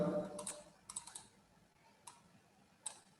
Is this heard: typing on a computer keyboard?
yes